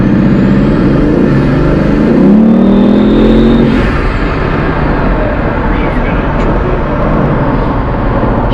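A Bugatti supercar on a Gumball 3000 run revs and accelerates with a loud, sustained engine roar and rising whine, the pitch climbing then settling under steady road noise.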